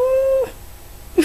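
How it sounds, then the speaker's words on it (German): A pet cat lets out a long, steady meow up close, then goes quiet before a short second mew at the very end. "Ich bin sehr verliebt in meine Katze."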